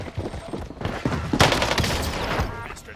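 Gunfire in the Warzone Pacific video game, a rapid automatic burst of loud cracks peaking midway, with game noise and some voice underneath.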